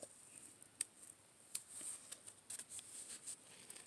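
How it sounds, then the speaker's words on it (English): Scissors snip through folded construction paper while heart shapes are cut for Valentine's cards, a quiet series of short crisp clicks and rustles at an irregular pace, close and faint, with no talking. "take your scissors, and have at it."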